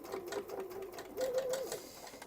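A sewing machine stitches and back-stitches a seam on a gathered dress, whirring close by in short runs that rise and fall.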